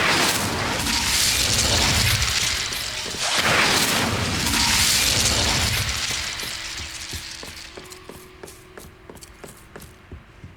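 Confringo blasting spell cast in the Hogwarts Legacy video game: loud, booming explosions with crackling, shattering bursts dominate the first several seconds, then fade into quieter game ambience with rhythmic ticking impacts.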